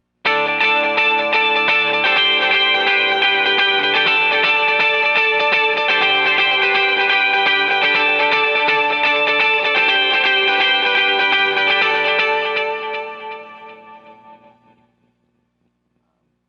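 An electric guitar run through effects such as delay, chorus and distortion rings out sustained chords in a live manner, a dense shimmering wash that holds steady and then decays to silence.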